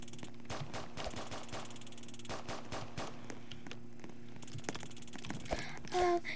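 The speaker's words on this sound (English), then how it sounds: "Oh, he has a gun." Rapid gunfire in the Roblox game Prison Life, with many short sharp shots crackling throughout at moderate loudness over a steady game hum, and a louder burst near the end.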